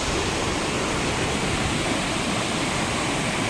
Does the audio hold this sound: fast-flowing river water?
yes